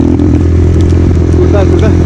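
A new scooter's engine drones loud and steady while riding on the road toward Raxaul, Bihar, with wind rumble and a voice talking over it.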